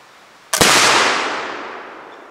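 Single loud gunshot from a coned barrel flintlock rifle fired outdoors at steel targets 25 yards away, a sharp crack followed by a long, fading boom.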